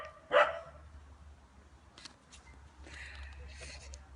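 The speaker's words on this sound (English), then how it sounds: "Now the dogs are out next door." A dog next door gives one fairly loud bark, then fainter yips and barks follow at a distance over a low hum, with a voice talking faintly in the background.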